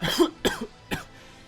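Three harsh coughs in an animated episode, close and loud, the last set apart by a short pause, followed by quiet.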